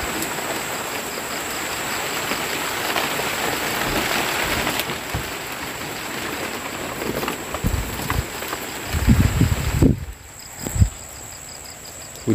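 Steady rain falls at night in an oil palm plantation setting, a dense continuous hiss, with a few heavier thumps and splashes close by near the end.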